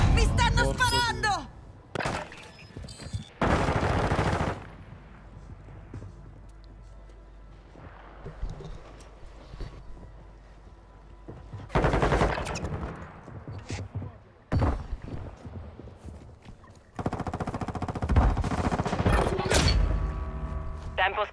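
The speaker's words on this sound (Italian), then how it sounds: "Mi stanno sparando!" Bursts of in-game gunfire and heavy thuds from Call of Duty Warzone 2.0 on Xbox Series X, coming in loud clusters separated by quieter stretches, with voice lines and talk mixed in.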